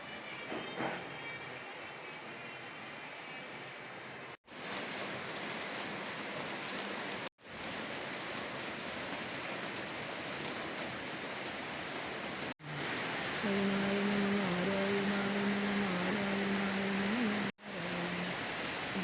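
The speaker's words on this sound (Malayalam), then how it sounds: "നല്ല മഴയാണ് ഇന്ന് മൊത്തം മഴയെന്നാണ് തോന്നുന്നത്" Steady heavy rain hisses continuously in several separate stretches, broken by brief cuts, with a faint low hum appearing toward the end.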